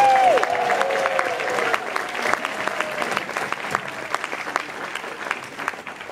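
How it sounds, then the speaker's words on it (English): An audience gives a round of applause at a recovery awards ceremony, a loud, dense clapping crowd with a whoop at the start, continuing steadily and tapering slightly toward the end. "I'd like to have us start with a round of applause for the person without whom this would not happen, Pat Taylor."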